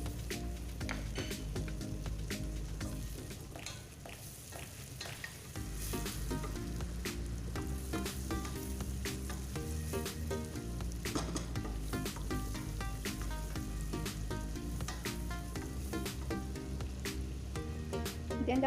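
Ginger, garlic and onion frying in melted fat in a pan for butter chicken, a loud continuous sizzle with frequent clicks of stirring against the pan throughout.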